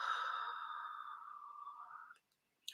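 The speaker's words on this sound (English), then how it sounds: "nice big inhale. Yes, and exhale." One long, audible exhale after a big inhale, a breathy sigh close to the microphone that fades out over about two seconds, then quiet with a faint click.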